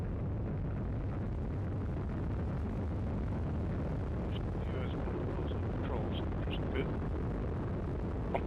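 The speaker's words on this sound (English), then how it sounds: "1, 0, and liftoff of the Atlas V rocket with Cygnus and the SS John Glenn" An Atlas V rocket lifting off with a Cygnus cargo spacecraft, a steady, dense broadband roar that fills the whole stretch without breaks, heavy and rumbling with wind-like buffeting.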